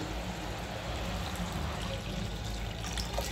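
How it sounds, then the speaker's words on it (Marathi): Buffalo milk poured into a pot of rice that was sautéed in ghee for rice kheer, making a steady, soft liquid rush and trickle that runs unbroken throughout. "यात घालायचं आपल्याला दूध।"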